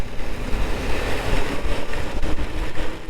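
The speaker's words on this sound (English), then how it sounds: "See those big splashes?" A Ford F-150 truck drives through standing water in a downpour, its tires throwing heavy, surging splashes over a rumbling wash of rain and road noise, close and loud.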